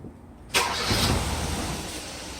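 A car engine cranks and catches with a sudden loud start, then settles into a steady idle, close by, with no talk over it.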